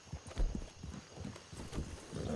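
Horse hooves clip-clop in a rhythmic, steady pattern across dirt in the Red Dead Redemption II western game, several hoofbeats moderately close with faint ambient background and no talk.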